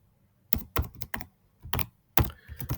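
Keys tapped on a computer keyboard to type a folder name, irregular bursts of close, crisp clicks separated by short pauses, no talking.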